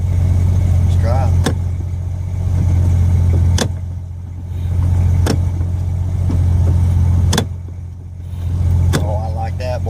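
A car with an aftermarket rock shifter pulls away after being put in reverse, its steady low engine drone swelling and easing across the clip, marked by several sharp clicks and knocks, with voices talking over it.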